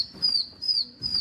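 Pigeon on a rooftop in a pigeon-catching setting, making three short, clear, high chirping calls in an even rhythm, close and fairly faint, with soft low rumbles between them.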